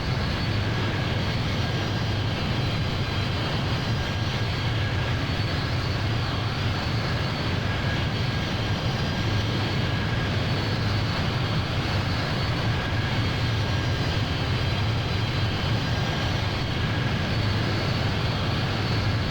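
A Boeing C-17 Globemaster cruises in Microsoft Flight Simulator with a constant, even jet-engine drone and airy rumble that never lets up, with no one talking.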